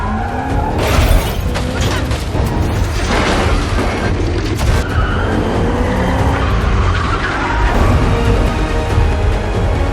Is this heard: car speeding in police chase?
yes